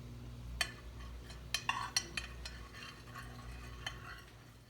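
A soap bubble solution with glycerin is stirred in a container, giving faint scattered clinks and light scraping taps over a low steady hum.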